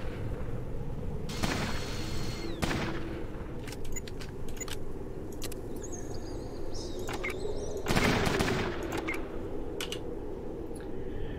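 Hunting rifle shots in the Fallout Tactics video game: a few sharp, loud cracks spaced seconds apart over a steady hissing background of game ambience.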